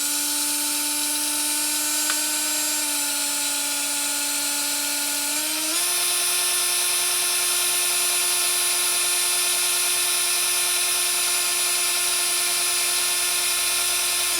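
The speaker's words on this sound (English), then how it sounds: "reverse the direction of the drill, and wind the other side" A hand drill winds a long bobbin for a restored 1906 Singer sewing machine, giving a steady high whine that holds a pitch, then rises slightly partway through and keeps running loud and even with no talk.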